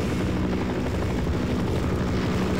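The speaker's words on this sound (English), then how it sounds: "Stupid helicopter!" A helicopter in the video game Half-Life: Source hovers close by with a loud, steady rotor thrum that fills the whole moment, with no talking over it.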